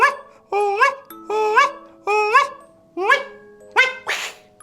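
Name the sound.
special whistle bird call luring wak-wak birds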